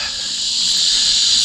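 Steady, shrill insect buzzing that holds a dense continuous drone throughout, loud and close with no pauses or other sounds.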